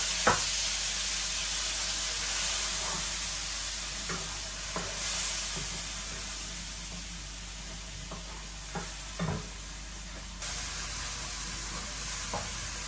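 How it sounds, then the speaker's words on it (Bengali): Spice paste with tomato sizzles steadily in hot oil in a pan after a splash of water, with a continuous loud frying hiss and occasional spoon knocks and scrapes as it is sautéed. "মশলাটা দিয়ে দিই, তেলের মধ্যে দিয়ে দিলাম, আর একটু জল দিয়ে দেই, মশলাটা কষানো হোক"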